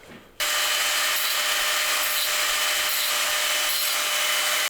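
A power tool smooths the freshly cut edges of a mainsheet fitting on a Hallberg Rassy sailboat, giving a loud, steady, high-pitched grinding whir that starts abruptly and runs for several seconds before stopping.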